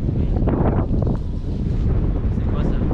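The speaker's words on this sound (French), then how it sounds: "Il y a du vent, ça souffle." Steady, blustery wind buffeting the microphone with a low rumble throughout, loud and unbroken, with no talking.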